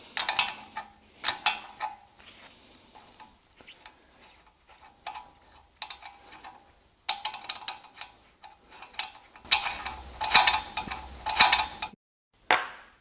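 Metal tool work on the hub of a Peugeot 206 RC as a nut is removed, heard as irregular close clicks, ratcheting ticks and clinking of metal parts, with several denser bursts of clatter toward the end and no talk.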